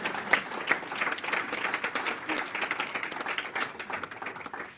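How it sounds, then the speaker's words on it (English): Sustained audience applause at a panel event, dense and steady clapping from many hands filling the room for several seconds with no talk over it. "am I stopping you from applauding?"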